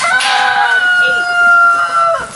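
A farm rooster crows one long, loud, drawn-out call close by, sustained for about two seconds before cutting off.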